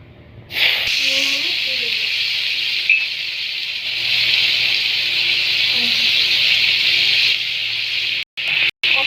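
Mustard seeds, with potatoes, onion and chili, hit hot oil in a pan while frying for rice. A loud, steady sizzle starts abruptly and continues throughout, with faint voice fragments underneath.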